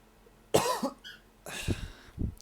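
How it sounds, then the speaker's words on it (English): A person coughing, several close, harsh bursts: a single cough, a pause, then a rapid cluster of coughs and throat clearing, with no talk. "Sorry about the coughing"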